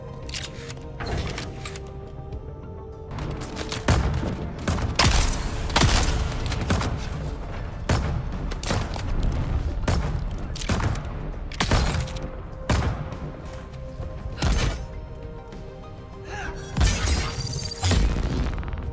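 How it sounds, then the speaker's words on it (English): Scatter gun blasts in the sci-fi survival game Dune Awakening, a fast run of loud, sharp bursts in clusters across the whole stretch, with no talking over them. "This the scatter gun, baby. That is the ultimate weapon."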